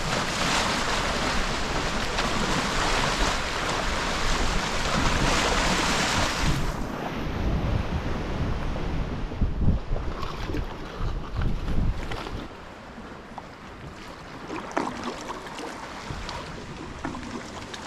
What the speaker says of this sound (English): the wind has been brutal